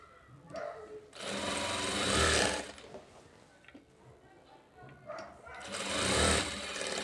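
A sewing machine runs straight stitches on blouse front tucks in two sustained close bursts separated by a quieter pause with faint handling sounds.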